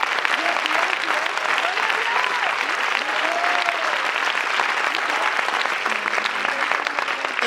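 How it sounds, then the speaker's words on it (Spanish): A church congregation applauds loudly during a bilingual service, with dense, sustained clapping and cheering throughout, and voices mixed into the crowd. "Denle un aplauso fuerte."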